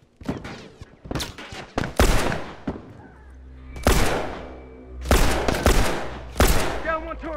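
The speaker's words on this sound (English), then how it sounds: "Oh my god, who's shooting me?" Gunfire in The Last of Us Remastered multiplayer, sharp rapid bursts of shots in several clusters, loud and close with brief gaps between volleys.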